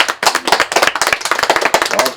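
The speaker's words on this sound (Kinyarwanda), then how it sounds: "mugikomera amashyi" Lively clapping from a small group in a Rwandan comedy scene, rapid uneven claps close by and fairly loud, lasting about two seconds.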